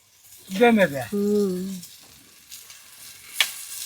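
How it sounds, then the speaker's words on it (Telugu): Pre-fried prawns tipped into a pot of masala for prawn pulao and stirred, with a soft sizzle, a squeaky scraping stir and a brief clatter near the end. "ఇప్పుడు దీంట్లోకి ముందుగా వేయించి పెట్టుకున్న రొయ్యలు వేస్తున్నా."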